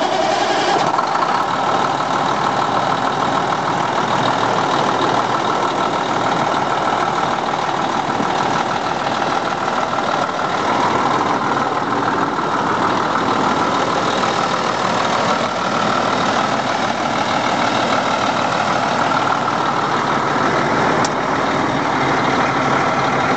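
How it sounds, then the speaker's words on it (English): A heavy engine idles with a continuous, loud, rumbling drone for the whole stretch, and no one speaks. "we're about to start the engine"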